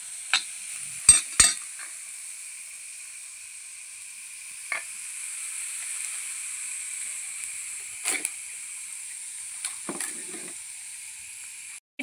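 Garlic and onion fry in hot tempering oil, a thin, continuous high sizzle close by, broken by a few sharp clatters and scrapes of stirring.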